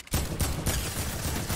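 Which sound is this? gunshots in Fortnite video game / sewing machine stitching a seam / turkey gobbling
gunshots in Fortnite video game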